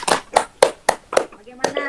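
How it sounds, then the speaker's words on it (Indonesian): Schoolchildren in a classroom clap for a group of classmates in a short, quick rhythm of about six distinct claps, close and fairly loud, with a voice briefly at the end. "Tepuk tangan untuk kelompok bawang"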